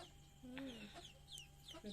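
A chicken clucking at a birthday gathering, giving a few short, quiet calls and chirps close by over faint background noise.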